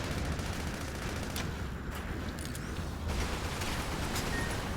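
Enemy gunfire in the video game Sand Land, a dense continuous rattle of rapid shots that stays loud and steady throughout, with no talk.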